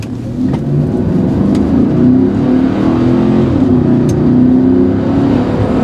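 A GMC Denali SUV's 6.2-liter V8 roars loudly and steadily as it accelerates, a deep throaty rumble with a few light clicks and rattles.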